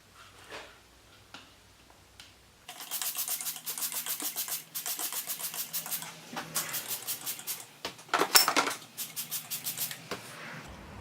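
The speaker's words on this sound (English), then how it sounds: "I just have a stainless steel brush, and I'll just scrub these down real quick" Rapid back-and-forth scraping of a stainless steel wire brush on vise parts, close and rhythmic, runs in bursts with brief pauses after a quieter start.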